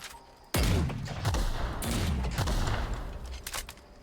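A grenade goes off in The Outer Worlds with a sudden loud boom, followed by a dense run of rumbling blasts and crackling gunfire-like bursts that keep going to the end.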